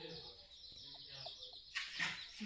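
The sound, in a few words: chickens clucking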